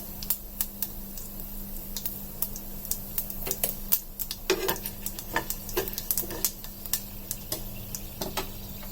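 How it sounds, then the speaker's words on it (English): Cumin seeds and peppercorns sautéing in a pan, giving irregular sharp pops and crackles over a low sizzle, some loud and close, scattered throughout. "Then I'm adding 1 teaspoon cumin seed and 1 teaspoon peppercorn. Saute it few minutes."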